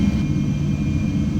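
Boeing 737 jet engines spooling up for takeoff in a flight simulator, heard as a steady, loud low rumble with a faint high whine and no talk.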